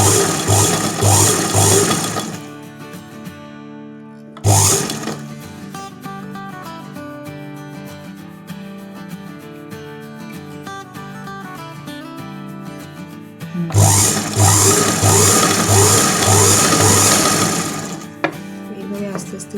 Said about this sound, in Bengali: এটার ভেতরে যে কাপড়টা রেখে এইভাবে সেলাই করে দেবো।